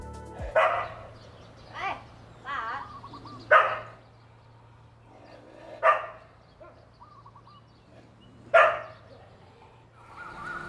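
Several dogs bark in short separate bursts, some near and some farther off, on a Bangkok street by temples. Birds chirp between the barks over a low steady hum.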